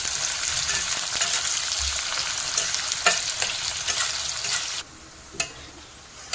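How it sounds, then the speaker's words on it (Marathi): Onion frying in a pan until brown, a loud steady sizzle with sharp stirring scrapes and clacks, which drops to a quieter crackle near the end. "नंतर कांदा कांदा ब्राऊन कलरचा होऊन द्यायचा आहे"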